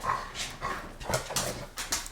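A small dog in a room makes several short, throaty growling and whimpering bursts close by, with no one talking.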